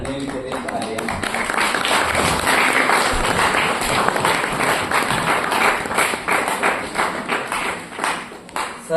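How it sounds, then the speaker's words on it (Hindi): Audience applause for the lighting crew at a staged performance of Bhagwadajjukam, a dense, loud patter of many hands clapping close by that holds steady and then thins and trails off near the end. "श्री अनिल कुमार और सुनील अनिल के लिए तालियां"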